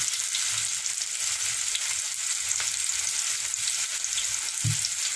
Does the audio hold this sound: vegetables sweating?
yes